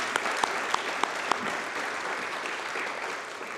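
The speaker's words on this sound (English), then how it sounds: "let's give them a big round of applause." An audience applauds at an evening event, with sustained, even clapping from a crowd and a few sharper nearby claps standing out near the start.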